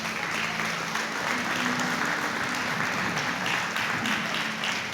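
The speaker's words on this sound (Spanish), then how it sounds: "Dale otro fuerte aplauso al Señor." Church congregation applauding the Lord during a Spanish-language sermon, a steady, dense, loud clapping that fills the whole stretch without letup.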